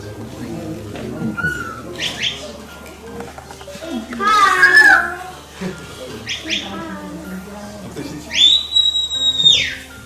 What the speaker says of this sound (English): I am going to tell her walk up now with 2 short blasts on whistle.